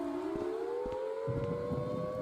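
A tornado siren in the video game Rec Room wails with a steadily rising tone, loud and sustained, with a few soft thumps and a faint background rumble underneath.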